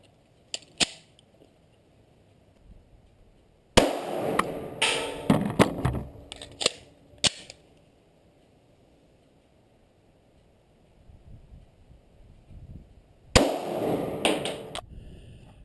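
Glock pistols fire at an outdoor shooting range, sharp single shots and quick strings of cracks separated by quiet pauses, fairly close and loud, with no talking.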